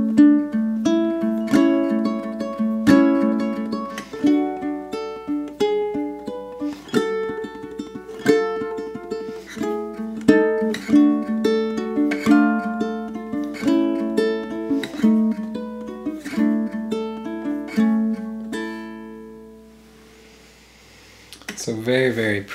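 A single ukulele picks out the verse of a song, with bright plucked notes and chords ringing over a steady walking pattern, close and clear, then trails off briefly near the end.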